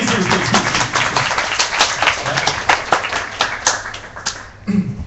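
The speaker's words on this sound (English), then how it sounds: "this would be the best applause they're going to get for this evening" An audience claps at a Kuala Lumpur web developers' meetup, a brisk, crackling burst of many hands close to the microphone that swells and then thins toward the end, with a few voices audible beneath it.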